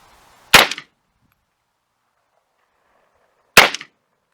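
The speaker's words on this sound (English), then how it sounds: "So here's the 2 shots, we'll see if it works" Two sharp, loud rifle shots from a 6.5 Grendel during jump-shooting hunting practice, spaced about three seconds apart, each a crisp crack with a short tail, with near silence between.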